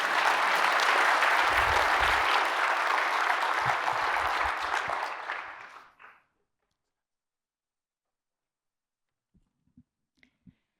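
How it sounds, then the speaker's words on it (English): Audience applause at a chemistry lecture meeting honoring Professor Dave MacMillan, a dense sustained clapping that fills the room for about six seconds before cutting off abruptly, followed by silence and a few faint scattered knocks. "Let's show our appreciation with a round of applause."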